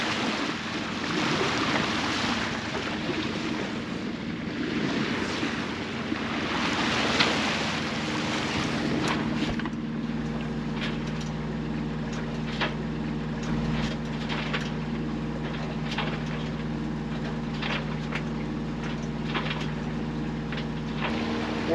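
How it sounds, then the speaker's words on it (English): Sailboat motor sailing on a calm sea off the Maine coast, with a steady low engine drone and hum under continuous wind and water wash, the rushing noise easing after the first ten seconds. "there's no wind, so we're just motor sailing today"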